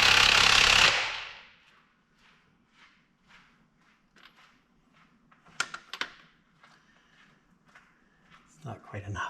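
Torque-turning bolts on a truck engine: one loud, harsh mechanical burst at the start, then quiet scattered clicks, taps and tool clatter with low murmuring voices.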